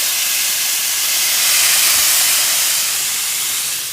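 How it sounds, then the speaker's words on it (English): Steady, loud hiss of food sizzling in a hot pan, a continuous broadband crackle that swells slightly midway and holds without pause. "Hear that sizzle?"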